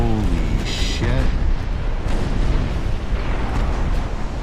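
Warship gunfire and explosions in Ultimate Admiral: Dreadnoughts, a continuous heavy roar of booming blasts and rumbling impacts that stays loud and dense throughout the battle.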